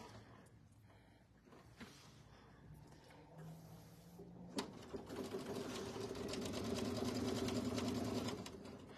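A sewing machine runs at a long stitch length, basting a quilt top to batting. Quiet handling and a brief whir come first, then a steady mechanical hum and rapid stitching rattle that grows louder.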